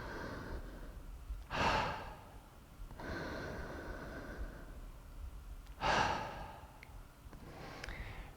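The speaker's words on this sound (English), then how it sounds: "we're going to take that big deep full breath in" Deep breathing in and out through the mouth during a breathwork session, close and loud, with long airy inhales alternating with stronger, sharper exhales that sound like sighs in a slow, regular rhythm.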